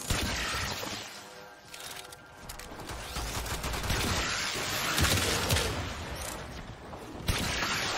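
Gunfire erupts in the Warframe video game: dense, continuous bursts of rapid shots and crashing impacts fill the whole stretch at high volume.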